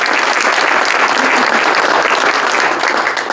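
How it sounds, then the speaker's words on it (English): An audience at a community event applauds steadily and loudly, a dense wash of many hands clapping close by for a few seconds with no voice over it. "Please join me in giving them a round of applause."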